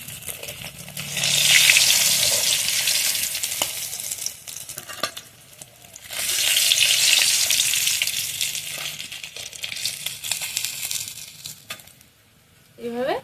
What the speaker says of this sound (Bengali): এইভাবে লাল লাল করে মাছগুলো ভেজে নিয়েছি